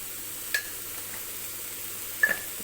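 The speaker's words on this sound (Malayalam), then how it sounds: "ഓയിൽ ചൂടായി വരുമ്പോഴേക്ക് ആദ്യം തന്നെ സവാള ഇട്ട് കൊടുക്കാം" Onions frying in hot oil with salt for a Spanish omelette, a steady low sizzle close by, broken by two brief scraping stirs of a utensil in the pan.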